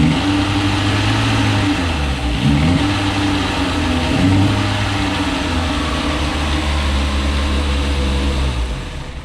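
A Honda car engine, just reinstalled, runs steadily up close with a low mid-pitched drone and a couple of brief revs, alone with no talking, loud throughout.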